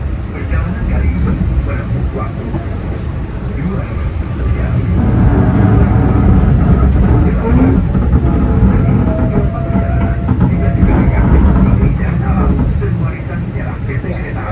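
Parahyangan executive train running from Bandung to Jakarta, a steady loud rumble of wheels and carriage noise from inside the train that grows heavier midway, with voices over it.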